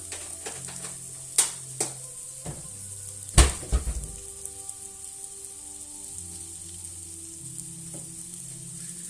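Rib-eye steak frying in a cast iron pan with garlic powder, a steady close sizzle broken by a few sharp spatters and clanks, with no voices.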